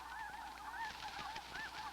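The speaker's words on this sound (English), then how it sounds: "these goslings will be ready to migrate southward with the rest of the snow goose colony" Snow geese in a colony with goslings honk continuously, a dense overlapping chorus of nasal calls from many birds at moderate distance, steady throughout with no talking.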